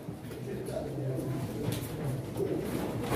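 Pigeons coo softly at a pigeon auction, a low steady burbling that runs throughout under a busy background of crowd murmur and scattered voices.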